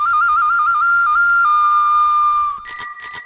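A clear, steady clay whistle tone with a warbling trill that settles into a long held note, followed by a few quick high chirps.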